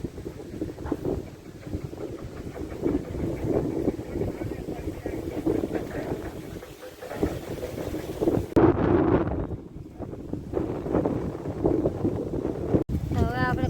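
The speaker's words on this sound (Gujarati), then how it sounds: "આ 2 દિવસથી પવન જ કાંઈ કેટલો છે ને" Strong wind buffeting the microphone in a constant rough roar, with faint voices partly buried beneath the gusts.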